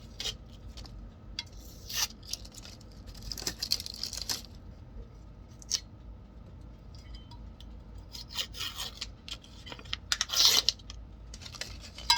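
Plastic shrink wrap being peeled off a sublimation tumbler, heard as quiet scattered crinkles and rubbing scrapes in irregular bursts, with no talking.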